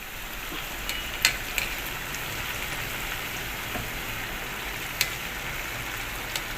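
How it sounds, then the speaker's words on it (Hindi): Chopsy noodles deep-frying in hot oil over a lowered gas flame give a steady, fairly quiet sizzle and crackle, with a few small pops scattered through it. "ये देखिए, इसको मैं 2 बार में फ्राई करके एकदम क्रिस्पी फ्राई करना है आपको।"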